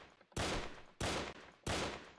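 Three loud pistol shots in the blocky first-person shooter Brick-Force, each a sharp crack with a short decaying tail, spaced roughly evenly about two-thirds of a second apart.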